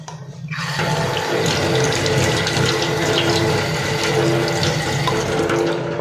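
Water runs steadily into an indoor basin as small fish are washed, a dense splashing hiss that starts after a brief quiet moment and continues close and loud without any voices.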